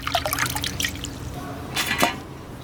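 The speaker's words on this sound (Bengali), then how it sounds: "ধনেপাতাটাও ধুয়ে নিচ্ছি ভালো করে," Coriander leaves are rinsed in water, giving soft splashes, drips and trickling at close range, faint and intermittent, with quiet handling noises between them.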